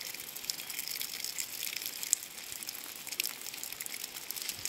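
Tap water gushing steadily over tomato seeds being rinsed to wash off the clinging pulp, a close, continuous splashing with small irregular spatters and no voices.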